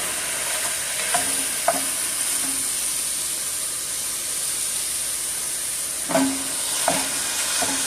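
Ground beef fries in a pot with a steady loud sizzle and hiss, broken by a few scraping stirs from a utensil against the pot.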